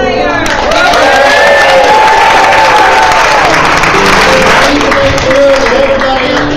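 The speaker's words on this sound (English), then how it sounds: "A round of applause for our wonderful piano player." An audience gives loud, sustained applause with cheering and whoops for a piano player, the clapping thick and continuous throughout with voices shouting over it.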